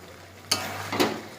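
Ground spice paste frying in a pan and stirred twice, two short bursts of scraping and sizzle over a faint steady hiss, close and alone.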